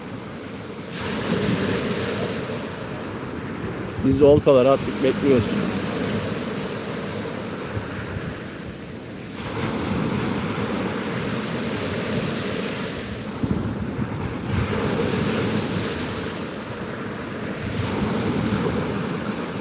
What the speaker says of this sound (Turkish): deniz çok güzel gerçekten. Dalga boyu yüksek.